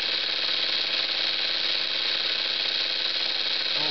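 A Jensen model 25 toy steam engine runs with its throttle opened, giving a steady, loud hiss and continuous mechanical whir with no break, alone and close.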